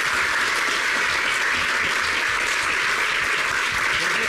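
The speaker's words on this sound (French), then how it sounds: "Mesdames et messieurs, merci d'applaudir notre deuxième participant à cette finale." An audience applauding the second contestant at a contest final, dense and loud continuous clapping that fills the room without a break or any voices.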